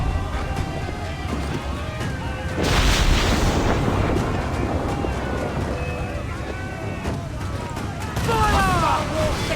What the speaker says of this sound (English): Uncork the cannons, lad! Fire!